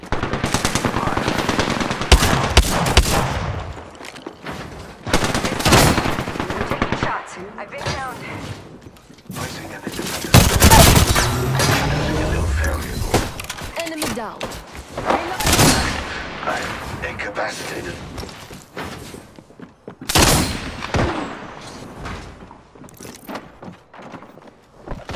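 Apex Legends gunfire, loud and close: bursts of automatic fire and single shots come in irregular clusters with gaps between, mixed with game clatter and a voice talking between volleys.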